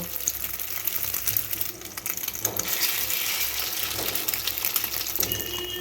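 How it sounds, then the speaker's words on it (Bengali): Bread slices dipped in beaten egg and milk sizzle in hot oil for an egg toast breakfast, a steady crackling hiss with occasional sharper pops and faint clinks. "এই তেলের মধ্যে একে একে ভেজে নেব"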